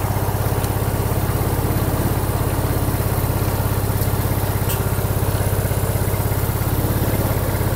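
A Yamaha Mio Sport scooter engine that is hard to start and runs noisily idles steadily close by, giving a constant, loud, buzzing putter with no pauses and no voices.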